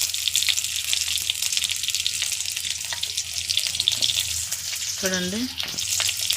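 Onions and green chillies with mustard seeds sizzle steadily in a home kitchen pan for a sambar vegetable curry, with close scraping stirs throughout and a brief voice speaking near the end.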